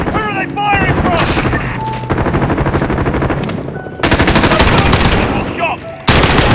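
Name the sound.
gunfire in Call of Duty Modern Warfare video game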